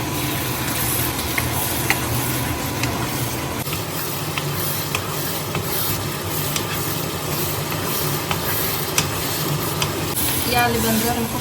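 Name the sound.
food frying in a pan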